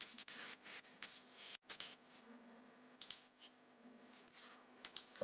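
Sharp, sparse clicks from a computer mouse while drafting in 3D CAD software, close and distinct against a quiet room hum, spaced irregularly with a few quick pairs.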